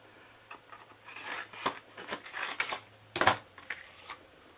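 Scissors or a trimmer cut cardstock down slightly for a shadow box card on a magnetic platform, giving a few close, dry snips and rustles of paper.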